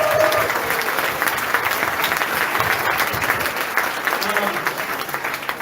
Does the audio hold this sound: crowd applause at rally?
yes